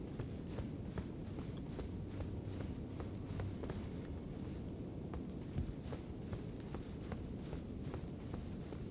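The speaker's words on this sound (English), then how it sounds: "I hear tiny footsteps" Footsteps approach in Elden Ring, with faint, quick, regular steps ticking over a low rumbling ambience.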